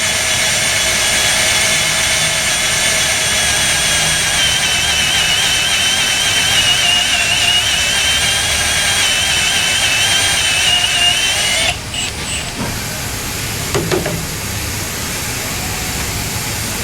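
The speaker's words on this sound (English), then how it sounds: "I need to drill it a little bit more." A drill bores out a broken bolt or stud with a loud, steady high whine for about twelve seconds. It then cuts off, leaving quieter background noise and a few faint knocks.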